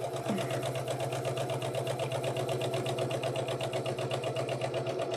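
A sewing machine stitches fabric at a steady, fast pace, its needle mechanism humming and clattering close by in an even rhythm with no pauses.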